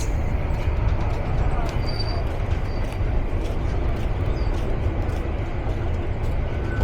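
Teesta Express intercity train running after departure, a steady loud rumble of wheels and carriages heard from on board, with a constant low roar and faint squeals.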